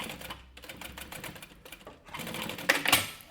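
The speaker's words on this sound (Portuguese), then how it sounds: "E aí eu vou costurar aqui," A sewing machine stitches fabric for an anti-theft backpack, running in short close bursts with brief pauses, the rapid mechanical clatter growing louder toward the end, with no talking.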